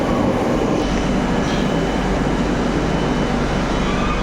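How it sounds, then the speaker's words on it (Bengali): A metro train pulls into a station on the Garia line, a continuous loud rumbling roar with a faint high screech of wheels on rails, steady and close with no voices. "আর ফাইনালি আমাদের মেট্রো চলে এসছে"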